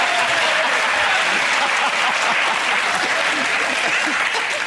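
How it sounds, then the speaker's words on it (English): A studio audience on a British comedy panel show bursts into loud, sustained applause, dense and steady from start to finish with a busy crowd texture and faint voices mixed in. "This audience will applaud anything."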